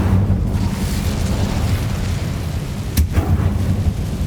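An Incendio fire spell cast in Hogwarts Legacy, a loud, dense whooshing roar that fills the whole stretch, with a sharp burst near the end.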